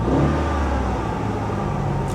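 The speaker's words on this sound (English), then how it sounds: "I'm giving it a little throttle, but the revs kind of hold themselves." A Saturn Sky engine running close up under light throttle, the revs holding themselves fairly steady after a delay, a continuous droning rumble with no voices.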